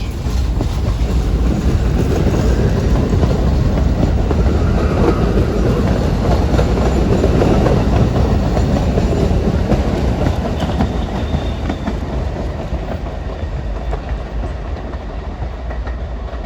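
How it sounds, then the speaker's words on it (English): A Staten Island Railway non-stop express train speeds past between St. George and Great Kills near Oakwood Heights, giving a loud, steady, continuous rumble with wheel clatter that lasts the whole time and eases slightly toward the end. "There are a number of non-stop trains from St. George to Great Kills that fly through here."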